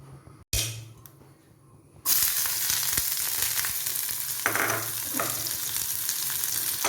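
Onions tipped into hot oil with mustard seeds burst into a loud, steady sizzle after a quiet start, with a few sharp pops and spatters rising over the hiss.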